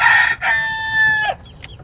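A rooster crows loudly and close by, a drawn-out ringing call that rises and then breaks off, followed by a brief faint cluck.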